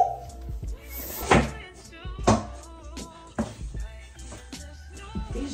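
Drawers on an inexpensive $40 Target bookcase are opened and shut several times, making sharp wooden thunks and scrapes close to the microphone, with people chatting in between.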